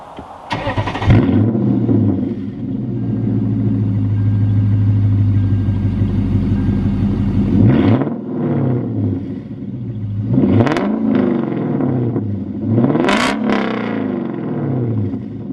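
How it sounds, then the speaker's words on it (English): A Lexus LS 460 engine with an aggressive custom aftermarket exhaust idles with a deep rumble, then revs several times in loud rising bursts that fall back to idle. "right now this car sounds like a European race car and an American muscle car"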